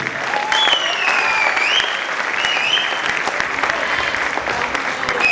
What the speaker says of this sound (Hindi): जोरदार तालियों से स्वागत करें बीरबल जी